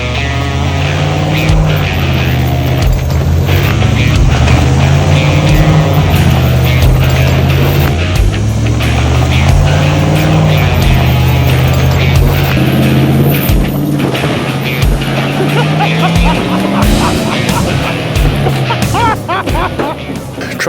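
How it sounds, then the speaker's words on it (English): A truck engine drones and revs unevenly as the vehicle is pushed at a house teardown site, its pitch rising and falling over a long stretch, with voices talking over it and clattering machinery in the background. "Truck flips over on its side and is still running"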